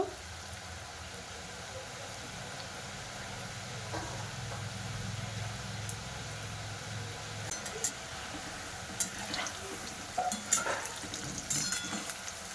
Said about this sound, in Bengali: একটু হালকা ভাজা করে নেব